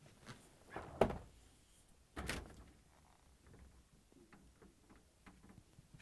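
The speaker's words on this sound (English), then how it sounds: "To get to the part, we need to open both French doors." Both French doors of an LG/Kenmore refrigerator being opened, heard as two distinct soft thunks about a second apart, each with a brief seal release, followed by faint handling clicks in a quiet room.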